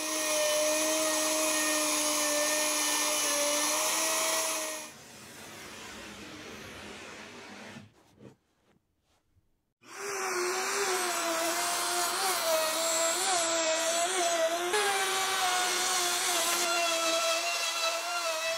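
A power tool cuts slots in shiplap wall panels, giving a steady, close motor whine that winds down midway, goes quiet for a couple of seconds, then spins back up and runs on steadily.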